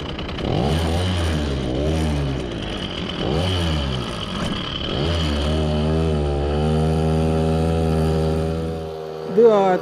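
A small Soviet Riga 30 Mini moped engine is started under throttle, rising and falling through several loud, close revs before holding a steady buzzing note, then cutting off abruptly.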